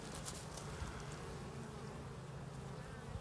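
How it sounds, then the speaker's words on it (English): Honey bees buzz busily around two hives outdoors, a dense continuous hum of many insects with individual bees passing close by, fairly quiet and without talk. "Both hives, a lot of activity. I hear a lot of buzzing."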